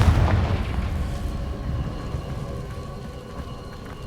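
A Confringo blasting spell from a wizarding action game explodes with a loud booming blast that rolls on as a rumbling, fading tail for several seconds.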